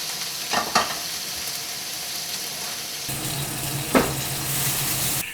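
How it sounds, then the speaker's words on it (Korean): Shrimp frying in a pan for a second crisping round alongside butter in a home kitchen, giving a steady close sizzle with a couple of brief sharper crackles and stirring bursts, and no voices. "새우는 한 번 튀겨놨다가 두 번째 튀겼을 때 제일 바삭바삭해요."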